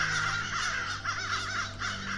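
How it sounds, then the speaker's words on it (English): Crows caw repeatedly in a horror video game, harsh calls rising and falling in a steady run over a constant low ambient drone, with no one talking. "It was crows. Crows got me."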